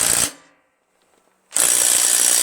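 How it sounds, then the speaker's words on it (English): A DeWalt 3/8 impact wrench hammers at the flywheel nut on a Craftsman lawn tractor, two loud rattling bursts, the first cutting off after a moment and the second starting again after about a second of near silence, very close. "Let's see if it'll come off just from this DeWalt"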